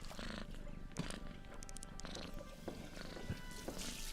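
A nearby cat purrs in a low, rumbling continuous drone that stays quiet, with a few faint clicks and small sounds around it.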